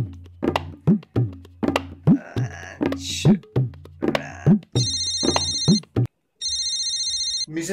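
A phone rings with an electronic ringtone in repeated bursts that begin partway through and continue after a brief gap, preceded by rhythmic thumps and speech nearby.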